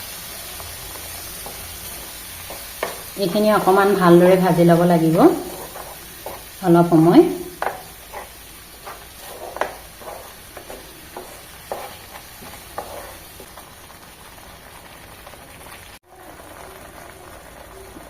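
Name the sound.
frying almond and tomato mixture in a pan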